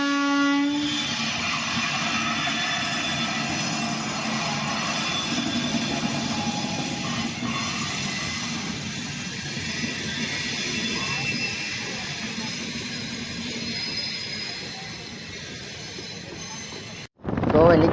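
A passing train rumbles steadily close by for most of the stretch, with a horn sounding near the start, at a roadside stop in a Gujarat village. The noise is loud and continuous, then cuts off abruptly near the end.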